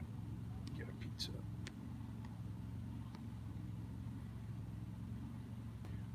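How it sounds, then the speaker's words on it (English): A generator engine runs steadily in the background, a low, constant droning hum, with a few faint clicks and small sounds above it. "Oh, the engine noise in the background, that's my generator."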